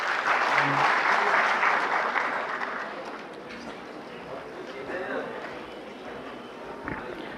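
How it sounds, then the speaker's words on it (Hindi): Audience applause welcoming a speaker at a workshop, a dense wash of clapping loudest at the start and thinning into scattered claps with background chatter. "एक बार तालियों से उनका स्वागत करेंगे प्लीज़।"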